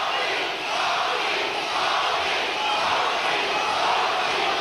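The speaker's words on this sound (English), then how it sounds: "The crowd chanting for Tommy Hearns." A boxing arena crowd at a WBA light heavyweight championship fight chants steadily for a fighter, a dense, continuous roar of massed voices holding at a fairly even loudness throughout.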